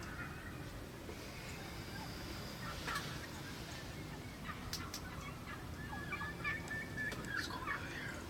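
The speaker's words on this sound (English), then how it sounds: "Yeah, a ton of turkey." Wild turkeys, including strutting long-bearded birds, gobble out in a New York field in a few faint, scattered calls, distant over a steady outdoor hiss.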